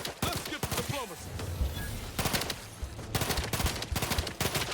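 Rapid bursts of gunfire in the video game The Outer Worlds 2, sharp repeated shots in clusters over a steady game background, fairly close with no voices.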